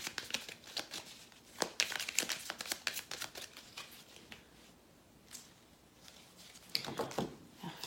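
Tarot cards shuffled, swept together and cleared off a table, with close, soft papery crinkles, slides and taps coming in uneven bursts, with no talking.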